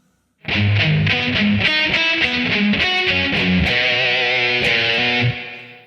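A distorted electric guitar plays the riff as a run of quick picked notes and chord changes, loud and close, ending on a held chord that fades out.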